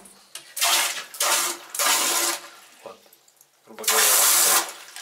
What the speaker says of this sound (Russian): установили здесь вот такой вот гигиенический душ